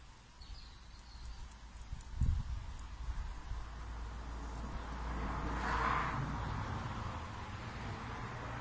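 A car passes by on a quiet road, faint and distant at first, swelling to a soft whoosh near the middle before fading, with a brief thump and light background hiss.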